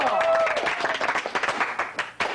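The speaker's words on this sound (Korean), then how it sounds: "자, 박수, 박수!" A class of students claps for a classmate about to sing, a burst of mixed clapping that thins into scattered individual claps toward the end.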